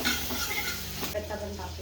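Onion frying until crispy golden for village-style dal bhatti, a short burst of close sizzling with a scrape of stirring midway.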